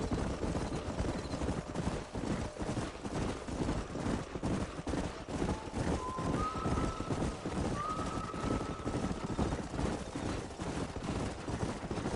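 A herd of horses galloping through a canyon in Red Dead Redemption 2, a dense continuous drumming of hooves that holds steady for the whole stretch, with faint whinnies and no talk.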